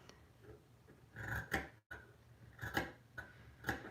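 Scissors snip through fabric in a few separate crisp cuts, quiet and close, with short pauses between each slicing crunch.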